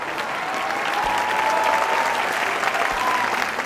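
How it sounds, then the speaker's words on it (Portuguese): Crowd applauding for a tractor, steady dense clapping held at an even level for several seconds with faint low background tones underneath. "Palmas para o trator,"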